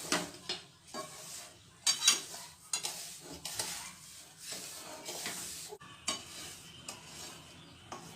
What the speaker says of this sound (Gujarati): હવે આપણે હલાવી લઈશું